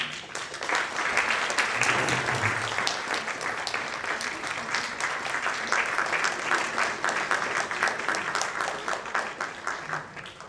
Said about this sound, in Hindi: शान से तालियां बजाएं हम एक बार